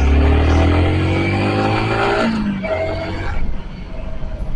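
A Royal Enfield Bullet motorcycle speeding up on a highway, its engine roaring loud and steady close to the mic, the pitch rising as it accelerates, then easing off slightly near the end amid wind rush.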